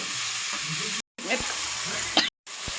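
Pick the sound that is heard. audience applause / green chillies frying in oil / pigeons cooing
green chillies frying in oil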